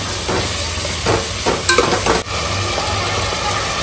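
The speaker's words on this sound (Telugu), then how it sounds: "ఇదైతే ఒక ఫైవ్ మినిట్స్ టెన్ మినిట్స్ ఇట్లా బాగా కలుపుకొని ఉండాలి" Ginger garlic paste masala sizzles steadily in a pan as a spoon stirs it through, a loud close frying hiss with several rhythmic scraping strokes in the middle.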